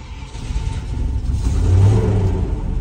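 Land Rover 90 V8 engine running and building into a rising rev, loud and close, a deep rumble swelling toward the end with no talking.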